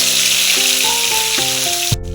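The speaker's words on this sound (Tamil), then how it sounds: "கடுகு போட்டாச்சு." Mustard seeds fry in hot oil with a loud, close, steady sizzle, while a sustained tonal hum shifts in pitch underneath and a sharp thump lands near the end.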